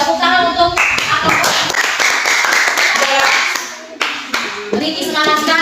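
Classroom applause bursts out as rapid, loud hand clapping from a group of students, with children's voices and chatter mixed in over the claps.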